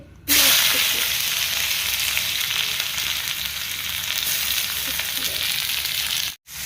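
A loud burst of sizzling starts as chopped tomato and chili hit hot oil with Maggi masala, then a steady frying hiss continues, briefly cutting out near the end.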